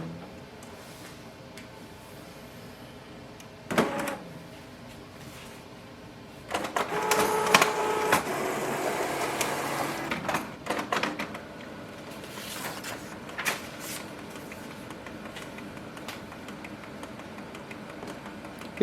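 A Canon Pixma G4270 printer powers up and runs its startup cycle, with a brief mechanical whir, then several seconds of louder motor and gear clatter, followed by quieter intermittent clicks and movements.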